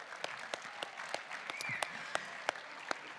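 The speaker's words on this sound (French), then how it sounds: "Je pense que toutes ces équipes méritent de chaleureux applaudissements." An audience at a national gathering of working-class neighbourhoods applauds steadily for a few seconds, a dense patter of many hands with a few sharper, closer claps standing out.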